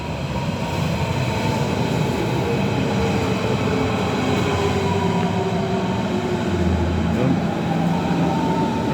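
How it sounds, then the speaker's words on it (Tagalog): Train rolling past with a steady loud rumble and rail noise throughout, heard close by during a vacation outing while a person speaks briefly over it. "Yan ang train."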